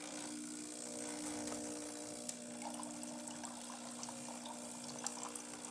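Steady hissing rush of hot water dispensing from a Breville Barista Express espresso machine during a service check, running continuously with a low pump hum underneath and no talking.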